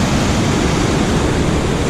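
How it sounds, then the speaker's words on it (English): A good-sized waterfall in the Wichita Mountains, a loud, dense, unbroken roar of falling water filling the whole stretch, close by with no other sounds. "It's a good sized waterfall."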